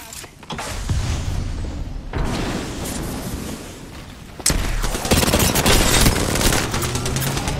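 Apex Legends combat: bursts of rapid gunfire and a heavy grenade blast, loud and close, with sustained automatic fire crackling on after the explosion.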